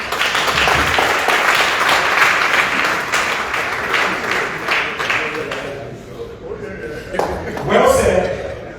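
A crowd at a strategic plan launch event claps loudly and densely for several seconds before the applause thins out. Scattered voices and a little laughter follow.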